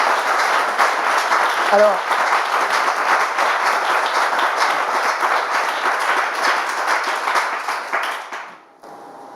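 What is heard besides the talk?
audience applause for the pastor's talk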